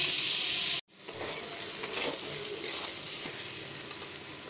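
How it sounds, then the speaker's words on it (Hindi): Peas and boiled potatoes sizzle and crackle as they fry in a pan for Bihari-style matar nimona, a bright, steady hiss broken by a brief gap near the start and light stirring clicks. "आलू डालकर हम इसको 1-2 मिनट के लिए अच्छे से भूनेंगे।"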